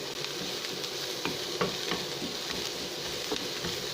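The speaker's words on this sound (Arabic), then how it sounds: "بقلي اهو، طبعا ما تحمرش، يا دوبك تدبل بس" Onion frying with spices in a pan for Egyptian moussaka, a steady soft sizzle with occasional stirring scrapes, close and fairly quiet, with no talking.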